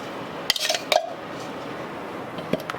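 Chopped dates and graham cracker crumbs are stirred in a bowl, with a few sharp clinks of a utensil against the bowl near the start and again near the end over quiet background.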